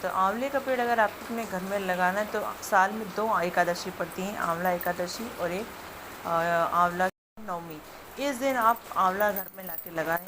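Heavy rain falls outside in a steady, soft hiss beneath someone speaking continuously close to the microphone.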